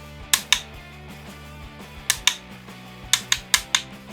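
A VRS Formula sim racing steering wheel gives sharp, close plastic clicks, several single and paired snaps spread over a few seconds, with a faint low hum underneath.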